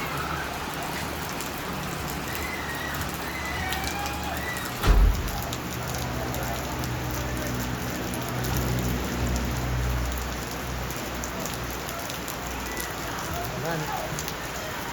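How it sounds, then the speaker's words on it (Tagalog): Steady rain falls outdoors with a constant, even patter and hiss throughout, broken by a single dull thump partway through. "Buti nga maulan pa, malamig."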